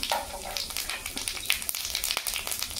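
Whole spices, a clove, two cardamom pods, cinnamon and a little cumin, crackle and sizzle in a small amount of leftover fish-frying oil, a busy continuous spitting with sharp pops throughout.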